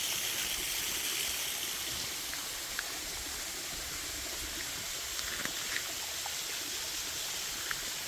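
Steady broadband rush of a forest stream flowing among chestnut and pine trees along the Régordane trail near Génolhac, continuous and fairly close, with a few faint clicks and no talking.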